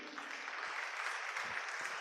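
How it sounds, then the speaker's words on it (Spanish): A church congregation claps together during a sermon, a faint, distant wash of many hands applauding steadily for two seconds with no one speaking over it. "dale un aplauso si es así"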